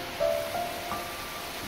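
Steady heavy rain hisses evenly throughout at moderate level, a dense broadband wash with a few faint tonal streaks and no voices.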